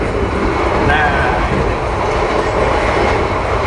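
Kertanegara economy-class train running from Malang to Solo, heard from inside the carriage: a steady, loud rumble and rattle of wheels on rail that fills the whole stretch without a break, with no talk.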